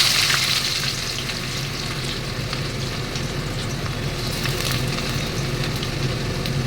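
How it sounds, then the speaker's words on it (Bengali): Onion frying in oil in a pan makes a loud, continuous hiss and crackle, close and steady throughout with faint stirring beneath. "এবার একটু তেলে দিয়েছি, এই যে পেঁয়াজটাও দিলাম এর মধ্যে"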